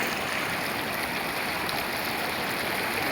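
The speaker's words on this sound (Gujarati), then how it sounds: "જો નજારો તમે કેટલી ફૂલે ફૂલ જાય છે નદી।" A flooded Mahanadi river near Derala village rushes past in a loud, unbroken roar of churning water, with no voices.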